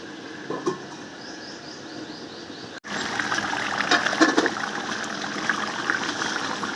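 Water poured into a pointed gourd and prawn curry and stirred in, a soft trickle and wet stirring that stops briefly, then a steadier, fuller sloshing bubble continues close by.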